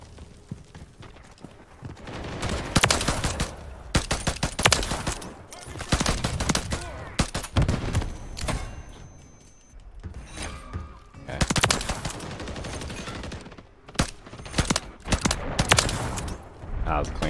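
Gunfire from Call of Duty: Modern Warfare 3 rattles in dense automatic bursts and single sharp shots, loud and close, clustered in waves across the span with brief lulls between them.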